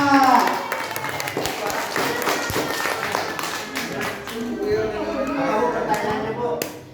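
A group of people claps in a steady burst of applause during a session at a special needs school, with children's voices mixed in underneath.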